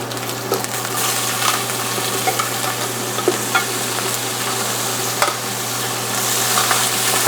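Lobster pieces searing in about 40 grams of hot oil, a steady loud sizzle with small pops and crackles as pieces are placed in one by one.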